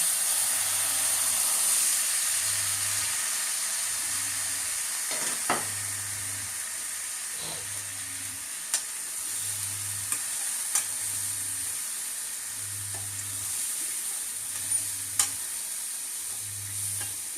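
Chickpeas sizzle in a pan while temple prasadam is cooked, a steady close frying hiss with a few sharp crackles and a soft rhythmic low pulse underneath, with no talking.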